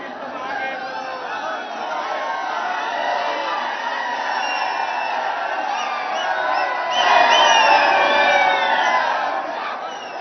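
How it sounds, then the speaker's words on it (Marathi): Large crowd of Maratha protesters at Mumbai's CSMT railway station cheering and chanting slogans, a continuous roaring mass of voices that swells louder toward the end. "इथे मराठा आंदोलकांची गर्दी झालेली आहे प्रचंड जल्लोषात ते सध्या आहेत आणि इथे देखील आंदोलकांकडून घोषणाबाजी केली जाते"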